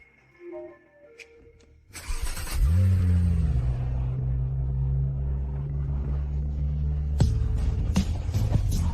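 Car engine starts up and settles into a steady low rumbling drive, loud and close, with a brief rise in revs near the end.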